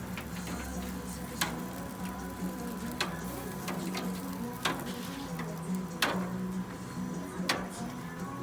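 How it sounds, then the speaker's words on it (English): Butter popping and sizzling on ears of corn turning on a barbecue grill, sharp crackling pops every second or so over a steady low hiss. "You see that butter starting to pop from previous rolls."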